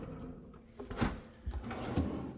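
A big pull-out kitchen drawer by the stove slides and thumps shut, followed by a couple more quick sliding knocks, close by in a quiet room.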